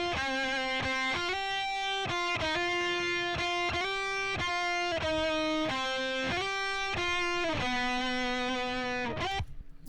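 An electric guitar through an amp with a Carnitas cab preset and compression plays the rhythm part: thick, distorted sustained notes in a steady chugging pattern of pitch changes, loud and close for about ten seconds, with no talk.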